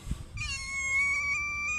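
A sick cat at a harbor gives one drawn-out, wavering meow, clear and close, with faint low background noise at the start.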